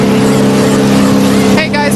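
A NASCAR race car during a 2007 Dodge Dealers 400 caution rolls down pit road, its loud low engine drone steady and close before shifting near the end, with a commentator talking over it.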